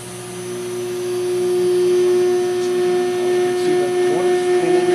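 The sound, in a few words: vacuum motor running during a motor test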